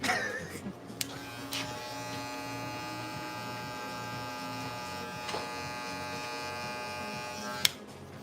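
A stock hair clipper, straight from the box, buzzes steadily at close range during a fade haircut, a constant electric hum with a few brief clicks and knocks along the way.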